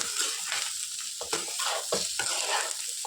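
Bitter gourd slices frying in oil in a pan for a Rayalaseema-style fry, a soft continuous sizzle broken by several scraping stirs, close and fairly quiet with no talking.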